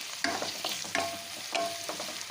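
Onion, garlic and chilli fry together in a pan, giving a steady close sizzle broken by several sharp scrapes and clinks as a spoon stirs the pan, alone with no voices.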